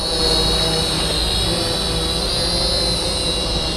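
JJRC H68 Bellwether quadcopter drone propellers spinning in flight, a loud, steady high-pitched whirring buzz that holds constant throughout without voices.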